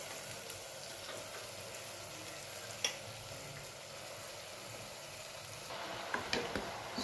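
Chopped cabbage stir-frying in a pan gives a steady, moderately loud sizzle with a few soft scraping clicks near the end, and no talking.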